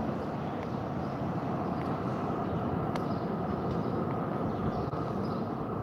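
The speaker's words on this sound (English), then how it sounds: "There's a tram." A Melbourne tram passes with a loud, steady rolling rumble on the street that holds through the whole stretch, with no talk over it.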